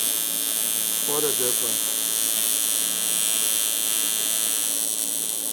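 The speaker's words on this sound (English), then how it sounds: "What an absolute joy this welder is." An Everlast 250EX TIG welder running on a large aluminum bar gives a steady electrical hum and high buzz throughout, with someone briefly speaking over it.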